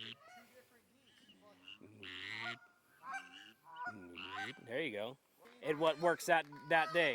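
A whistling duck call blown in short, squeaky, rising whistled notes, close and clear, coming in several bursts between a man's spoken phrases.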